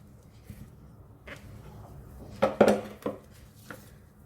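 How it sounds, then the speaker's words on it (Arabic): A spatula scraping and knocking against a bowl while mixing Lebanese sfouf batter, with a few sharper clinks and scrapes clustered in the middle, close and fairly quiet. "هلا رح اخد الشريط ورح بلش اقلب"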